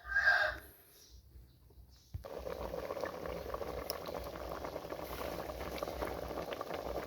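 Eel curry broth thickened with pounded soaked sticky rice bubbling at a steady boil, a dense continuous burble of popping bubbles that starts abruptly after a brief quieter moment and carries on alone without talk.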